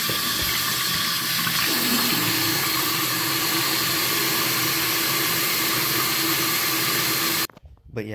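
Tap water runs steadily and loudly into a bathroom sink during a morning routine, a continuous rushing stream that stops abruptly near the end.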